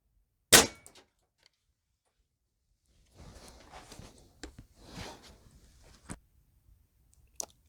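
Crosman Crusher air rifle dieseling on undyed kerosene fires one sharp, loud crack, followed by a few seconds of quieter mechanical handling noise and a small click near the end.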